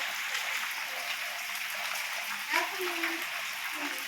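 Rain that has just started falls in a steady, broadband patter outdoors, close and moderately loud and continuous throughout. A voice and a brief tonal sound rise over it near the end.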